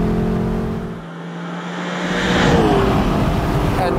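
A Lexus LC500 Convertible's naturally aspirated V8 revs up loudly, briefly easing off before climbing again into a rising, throaty roar heard close by.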